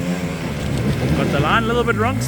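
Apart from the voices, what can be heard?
Beta motorcycle engines revving on trail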